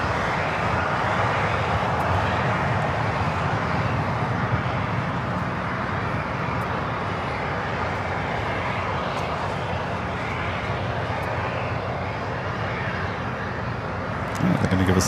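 A Delta airliner at LAX, its engines producing a loud, sustained broadband roar that holds steady throughout, close and dominant, with a brief knock near the end.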